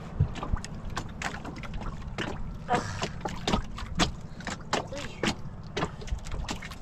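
Boat moving across water, steady wash and motor hum with wind buffeting the mic, punctuated by repeated knocks and splashes.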